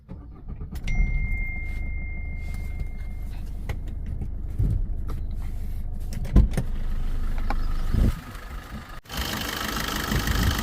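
A 2018 Maruti Dzire VDI diesel idles with a low, steady rumble, joined by a few clicks and knocks and a louder burst near the end. There is no talk over it.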